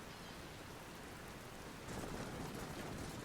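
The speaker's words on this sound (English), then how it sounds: "it's really coming down. This is some rain" Heavy rain in the Medieval Total War strategy game pours steadily as a dense, even hiss, growing a little louder partway through, with no voices.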